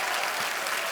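A TV comedy studio audience on The Kapil Sharma Show claps for guests Bipasha Basu and Karan Singh Grover. The applause is a dense, steady wash of many hands, loud and sustained with no pauses.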